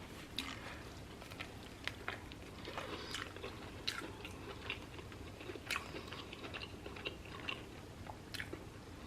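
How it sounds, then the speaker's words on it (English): Crunchy chicken Parmesan sandwich being chewed close up, with repeated sharp crisp bites and squishy chewing over a quiet room background, no talking. "The crunch of the chicken has very good flavor."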